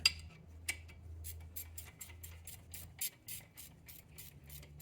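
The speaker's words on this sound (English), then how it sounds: "And then we just tighten our two 17 mil bolts on here." A hand ratchet clicks in quick, steady bursts while two 17 mm bolts are tightened on the front brake of a Mazda CX-9, the crisp ratcheting close and alone over a low background hum.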